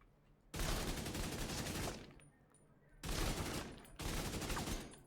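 Bursts of gunfire from enemies being shot in The Division 2: a loud sustained volley of about a second and a half, a pause, then two more dense bursts close together.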